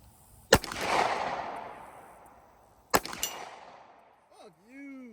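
Glock pistols fired at a target 150 yards away outdoors, two sharp loud shots a couple of seconds apart, each followed by a long rolling echo, with a voice briefly at the end.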